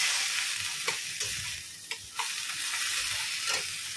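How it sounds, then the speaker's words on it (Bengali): Banana stem pieces sizzle steadily as they fry in a pan, a constant close hiss of oil broken by a few sharp clicks and scrapes from stirring. "থোড় ভাজাটা বসিয়ে দিয়েছি।"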